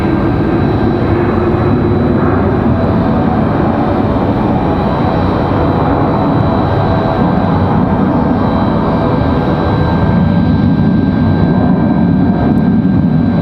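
Engine roar of an Endeavor CRJ regional jet arriving from LaGuardia at Raleigh-Durham airport, a loud, steady, continuous drone with a sustained whine, swelling slightly toward the end.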